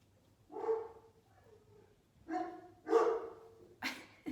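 A dog barks in four short, sharp bursts spread across a few seconds, fairly quiet and somewhat distant, with near-silence between them.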